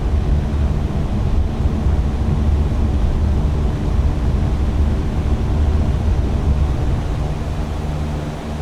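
Simulated Cessna 172 single-engine propeller plane at full throttle in X-Plane 12, a steady loud broadband drone with a low rumble that holds constant throughout, no voices.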